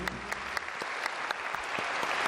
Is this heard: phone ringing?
no